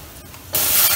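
Ground tomato puree masala hitting a hot pan for frying: after a quiet half-second, a sudden loud, sustained sizzling hiss bursts up close.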